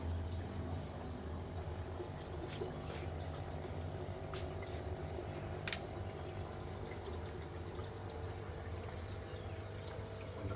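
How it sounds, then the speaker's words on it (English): Water trickles and splashes steadily from hydroponics pipes falling back into a tank on a balcony, a continuous close, faint gurgling stream with occasional drips and no talking. "Water falls back into the tank."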